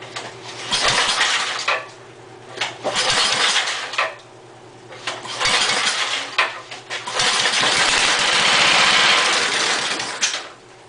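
A small generator engine is pull-started with the choke closed and runs in repeated rough bursts, revving up and dying back several times before settling into a sustained run, close and loud.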